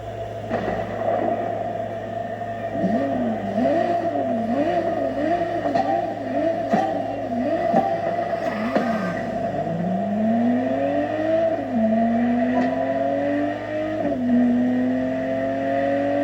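A Ferrari Testarossa engine in the racing game The Crew Motorfest holds a steady drone, then revs up and down in quick repeated swells before climbing in long rising sweeps as it accelerates. It stays loud and continuous with no talk.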